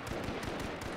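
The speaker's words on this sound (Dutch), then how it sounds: "ik hoor die schoten" Rapid gunfire from the H1Z1 Battle Royale video game, a dense run of sharp cracks in quick succession, fairly loud and steady over about a second with no talking.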